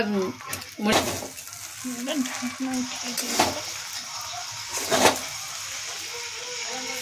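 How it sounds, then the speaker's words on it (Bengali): Fish-head muri ghonto made with katla fish head and gobindobhog rice is stirred in a pan, soft sizzling under intermittent scraping strokes and a few sharp utensil clinks against the pan. "একটু ঘেটে দিচ্ছি, হয়ে গেছে মুড়িঘণ্ট"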